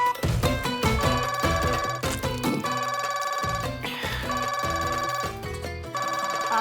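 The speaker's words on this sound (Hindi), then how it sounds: "आपका फोन बज रहा है, जवाब दीजिए।" A phone ringtone plays loudly and continuously, a bright repeating melodic pattern with steady rhythm and no voices.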